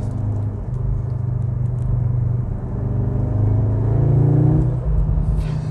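A 2021 Audi S3 with a petrol particulate filter carries a steady, loud low engine drone and road rumble from inside while driving, swelling slightly near the end.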